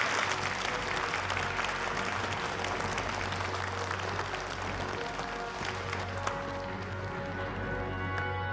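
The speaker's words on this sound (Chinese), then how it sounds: "掌声有请" Sustained applause at a corporate event as a company vice president is invited on stage, a dense steady clapping from a large audience that carries through to the end.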